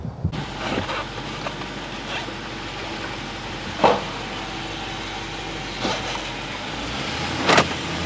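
A Land Rover driving along, a steady road and engine rumble from inside the cabinet with a few faint clicks and thumps over it.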